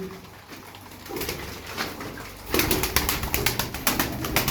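Tumbler pigeons cooing and fluttering, with a busier burst of wing flaps and calls in the second half; fairly close, no talking.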